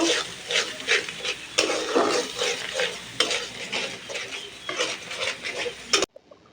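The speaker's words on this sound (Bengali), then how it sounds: "ধনিয়ার গুঁড়া, মরিচের গুঁড়া দিয়ে মশলাটা ভালোভাবে কষিয়ে নেব।" Coriander powder, chilli powder and turmeric masala are stir-fried in a pan for a fish curry, with steady sizzling under repeated scraping and stirring strokes of a spoon that come in rhythmic bursts.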